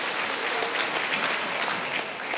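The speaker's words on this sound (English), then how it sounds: "the crowd is giving a standing ovation at this time" Sustained applause and cheering from a crowd on its feet at a girls' high school basketball game, a dense, steady roar of clapping that fills the whole stretch without letup.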